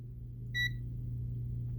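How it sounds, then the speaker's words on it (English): A single short electronic beep from a multimeter in continuity mode, probing a graphics card, bright and clean, over a low steady hum, followed by a brief click at the end. "I have my multimeter set in beep mode. When I probe ground or something connected to ground, it beeps"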